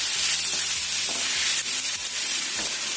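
Chicken meat stir-fried in a pan sizzles steadily and loudly, with repeated scraping strokes of a spatula against the pan.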